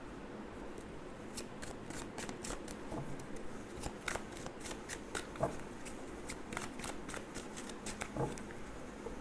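Tarot cards are shuffled close by in a quiet room, with repeated soft riffles and snapping flicks coming in irregular bursts, faint and without talk.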